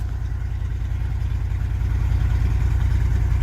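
A car engine idles steadily after a coolant sensor replacement, a low, even rumble with a fast regular pulse that holds for several seconds and grows slightly louder toward the end.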